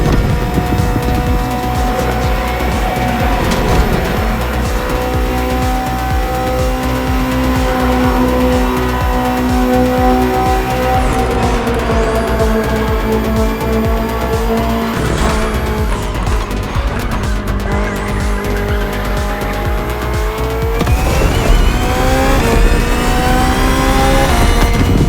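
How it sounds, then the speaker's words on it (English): A BMW M Hybrid V8 endurance race car, built in 2023 for races like the 24 Hours of Le Mans, drives hard in The Crew Motorfest. The engine roars loudly and continuously and rises in pitch through the gears, with tires squealing and skidding in the corners. "the BMW M Hybrid V8. What a beast."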